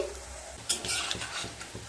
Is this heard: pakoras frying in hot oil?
yes